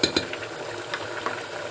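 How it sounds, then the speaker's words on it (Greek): A spoon stirs rice in a pot with hot oil, a few quick scraping and clinking strokes over a soft sizzle, close and fairly loud. "ανακατεύω και λιγάκι"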